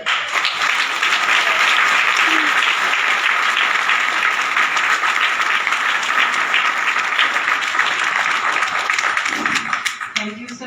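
An audience at a business gathering claps loudly and steadily for about ten seconds, a dense wash of applause that thins out at the end.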